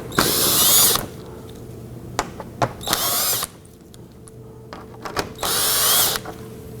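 A cordless power drill backs out bumper lip fasteners on a 2018-2024 Toyota Camry: three loud, close bursts of whirring, each about a second long, with ratcheting clicks and small handling taps between them.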